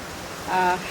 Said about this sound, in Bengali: প্রচণ্ড জোরে বৃষ্টি হচ্ছে বাইরে।